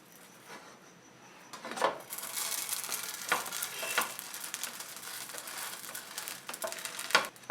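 Garlic bread cooking on low heat in a covered pan sizzles softly at first, then clattering scrapes and handling sounds come as a lid is moved and the bread is turned, with a livelier fry and scattered knocks and crinkles.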